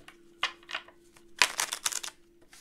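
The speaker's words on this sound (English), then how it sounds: "Damn, these are nice to shuffle." Tarot cards are shuffled by hand, giving a few light riffles followed by a denser burst of quick flicking and slapping, close and quiet, with no talk.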